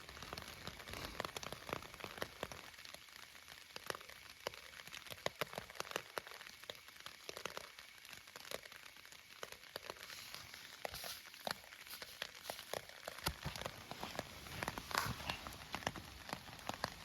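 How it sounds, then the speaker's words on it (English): Steady rain falls at a campsite at Colorado Bend State Park, a dense patter of drops with sharper close hits on a surface, lasting throughout with no voices. "7:15 and it's now raining."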